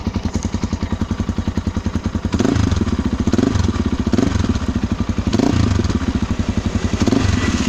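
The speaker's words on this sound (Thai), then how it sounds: "ยินเสียงไหมเสียงก็ไม่ดังมากนะ ลองเบิ้ลดู" A motorcycle with a Comet FS2SS aftermarket exhaust idles with a fast, throbbing exhaust beat, then is blipped to louder, rougher revs several times in succession.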